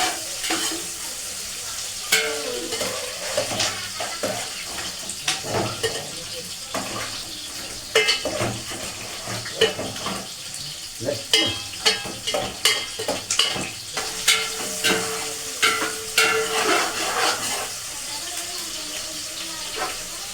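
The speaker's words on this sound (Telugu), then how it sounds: "ముందు ఉల్లిపాయలు వేసుకోవాలి." Onions fry in hot oil in a pan with a steady close sizzle, broken by repeated scraping and clacking stirs that grow busier toward the end.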